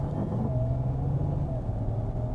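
A Mazda CX-60 plug-in hybrid accelerates hard in EV mode, giving a steady low drivetrain rumble and hum with faint whining tones from a gearbox that jerks and makes strange noises.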